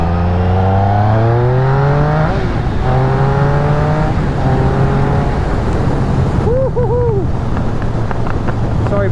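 A 2013 Triumph Speed Triple motorcycle accelerates through the gears on back roads, its engine note rising in repeated sweeps with quick shifts and a throttle blip near the end, loud and close under constant wind buffeting.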